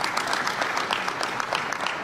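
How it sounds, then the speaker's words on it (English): An audience at an airport terminal event claps steadily, a dense, even round of applause from a sizable crowd heard at moderate distance with no talk over it. "Can you also give them a nice round of applause?"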